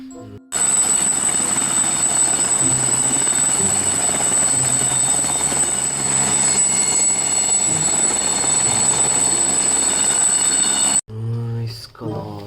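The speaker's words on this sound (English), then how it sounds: "Helicopter." A toy or animated helicopter drones loudly and steadily for about ten seconds with a high whine, then cuts off abruptly as a voice speaks.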